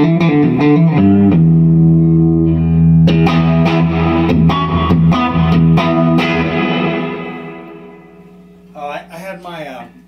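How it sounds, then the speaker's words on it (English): An electric guitar played through an Ironhorse Heritage 1x12 combo amplifier with a WGS ET65 speaker and a reverb pedal rings out in sustained distorted chords and picked notes, loud and close, fading to a voice talking at the end. "I had my reverb pedal on when I was soloing"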